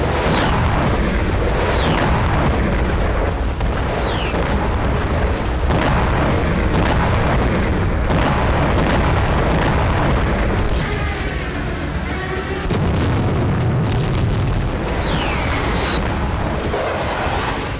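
Loud, dense booming blasts and distorted rumbles pile up over a continuous roar, with whistling descending tones between heavy detonations.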